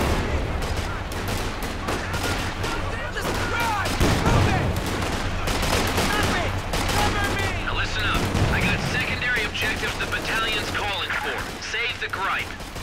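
Rifle and machine-gun fire crackles across a battlefield in Company of Heroes 2 Ardennes Assault, an almost continuous fusillade with heavier booming surges, mixed with shouted voices throughout.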